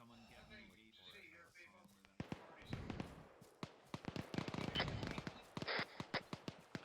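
Gunfire during a military field training exercise, many sharp cracks and bursts in irregular rapid clusters at moderate distance, following voices talking over a radio.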